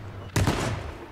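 A single loud shotgun blast in H1Z1: Just Survive, a sharp broadband crack followed by a short ringing decay over low background game noise.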